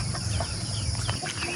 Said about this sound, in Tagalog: Dito naman, pakain naman tayo ng manok.